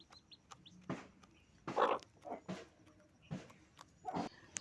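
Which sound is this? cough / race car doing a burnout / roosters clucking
roosters clucking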